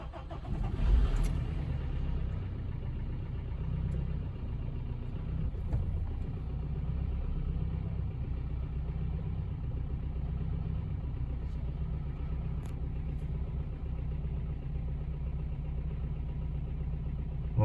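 A 1.7 diesel car engine with some leaked diesel fuel cranks and catches, then settles into a steady, rough diesel idle that runs on evenly for a long stretch.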